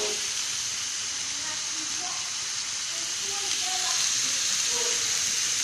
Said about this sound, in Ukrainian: Ми відправили сюди всю морку перемішали і жаримо, і жарю я на великому вогні.